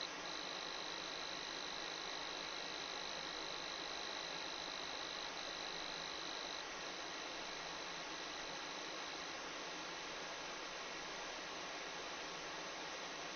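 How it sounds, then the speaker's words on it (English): Steady broadband hiss of white noise fills the whole stretch at an even level, with a thin high pure tone running through it for the first several seconds before fading out. "play white noise in the background at the same time"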